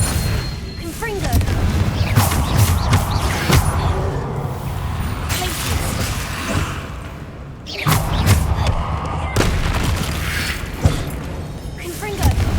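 Confringo fire blast spell cast in the Hogwarts Legacy video game, loud booming thuds and rumbling bursts that swell and fade across the passage amid game action, with a voice speaking over it.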